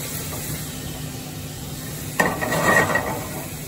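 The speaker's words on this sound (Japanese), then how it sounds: "この豆板醤も少し一緒に炒めることで香りもしっかりと立ってきますので、ここでぜひ一緒に炒めてあげてください。" Doubanjiang chili bean paste stir-fried in oil for shrimp chili, a steady soft sizzle that jumps louder as a utensil scrapes and stirs the pan, close and without talk.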